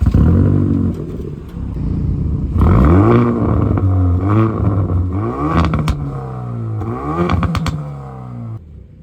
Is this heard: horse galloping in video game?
no